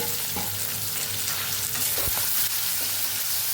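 Ivy gourd sizzling in hot oil with turmeric, a dense, steady frying hiss throughout with occasional soft stirring clunks, close and loud, no voices.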